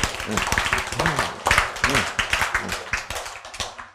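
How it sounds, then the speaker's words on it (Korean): Rhythmic group clapping in a Korean church service, steady beats close and loud, with voices talking and calling out over it. "박수! 박수!"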